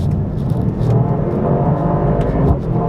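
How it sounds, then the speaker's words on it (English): A Mercedes-AMG performance car accelerates hard through an overtake, its engine droning loud and steady from inside the cabin with a rising, strained tone and no talk. "I'm about to do an overtake, and I want you to see this."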